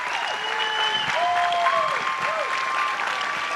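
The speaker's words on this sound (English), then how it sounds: "You can clap all day for Gus." A family reunion audience claps steadily for a few seconds, a full room of hands applauding at close range while whistles or sliding tones ring faintly above it.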